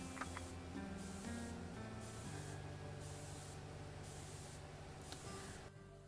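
Crop sprayer in a farming video game applying pesticide to fields gives a steady synthetic spray hiss, with game tones and clicks layered over it before it cuts off near the end.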